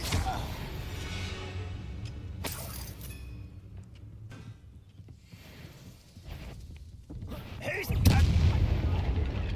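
Spell blasts from Bombarda and Confringo in Hogwarts Legacy burst out repeatedly as booming impacts over a steady game backdrop, with a heavy low-end explosion near the end.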